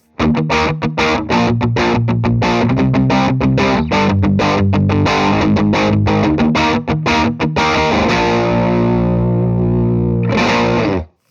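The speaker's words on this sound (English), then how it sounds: "By the way, the guitar straight into the amp sounds like this." Gritty, overdriven electric guitar plugged straight into a Marshall amp, riffing with chugging rhythmic chords and palm-muted stabs, loud and close, ending on a ringing chord.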